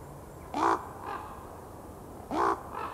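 Crows calling as they arrive to roost in forest trees at dusk: two pairs of harsh caws, each a loud call followed by a softer one, at mid-distance over quiet background hiss.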